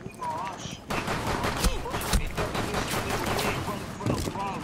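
Gunfire in a Rainbow Six Siege match: several sharp shots and short bursts cut through a busy mix of game sounds, with a voice talking over them.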